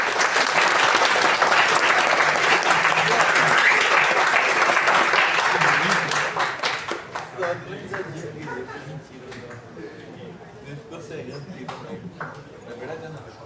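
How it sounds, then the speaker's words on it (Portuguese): Audience applause for a speaker at a Klabin morning lecture, a dense burst of clapping from a room of people lasting about six seconds before thinning out into scattered claps and room noise. "Salve de palmas para o Rodrigo"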